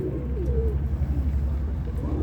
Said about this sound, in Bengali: দেখুন এই আবলুক পায়রাটা, নর বাচ্চা